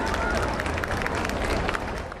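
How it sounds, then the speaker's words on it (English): Crowds lining Edinburgh's Royal Mile applaud as a royal funeral procession passes, a continuous wash of clapping and murmur heard from a distance at moderate level. "Down the Royal Mile, on a wave of applause"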